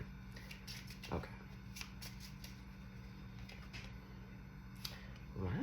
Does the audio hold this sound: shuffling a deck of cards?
yes